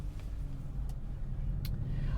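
A 2009 Honda Civic EX-L idles in traffic with a steady low engine rumble. Faint brief clicks break the drone now and then.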